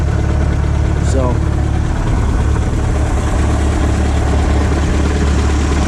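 An old boat engine idles steadily, a loud low rumble throughout with a brief squeak early on and a voice talking over it.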